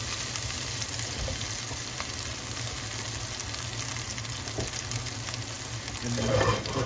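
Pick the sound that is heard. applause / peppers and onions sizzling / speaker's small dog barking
peppers and onions sizzling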